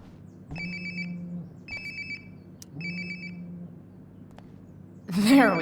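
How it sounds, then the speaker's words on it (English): A mobile phone rings in the Life is Strange: Before the Storm video game, three repeated electronic ring bursts with pauses between, clear and moderately loud, followed by a louder rising game sound at the end. "Sounds like my phone is definitely nearby."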